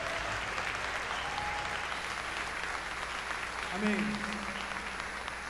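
Worship applause from a church congregation after a sermon on adoration, a steady, fairly distant wash of clapping from a crowd, with a single voice speaking briefly over it.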